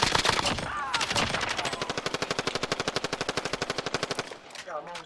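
Rapid automatic gunfire in the video game Call of Duty: Warzone, a long burst of evenly spaced shots lasting several seconds, loud and close, with a player talking briefly at the start and end.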